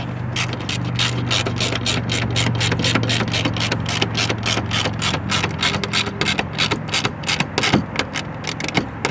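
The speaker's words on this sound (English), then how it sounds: "we're going to take our ratchet, 7mm socket, and tighten them up" Ratchet with a 7mm socket tightening factory screws into metal J-clips during a 2024-2025 Mustang installation, giving steady, rapid, close clicking with a low hum underneath.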